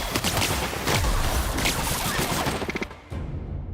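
Video game gunfire crackles in a dense, loud fusillade of rapid shots and booms. It runs almost continuously for a few seconds, then gives way to a short sparse burst near the end.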